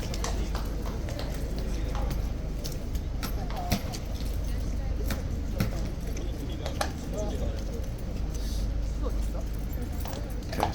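A King's Horse Guards mount clops its hooves on pavement in cold, snowy weather, with irregular sharp hoof strikes under steady background noise and a person talking.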